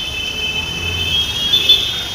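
A metro train rumbles across a bridge in Mumbai's Lalbaug area with a sustained high metallic squeal from the wheels, loud and continuous.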